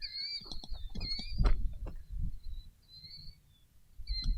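A killdeer calls outdoors near a farm field in early spring, sharp high repeated cries in short bursts over low rumbling handling noise and wind, with a final call near the end.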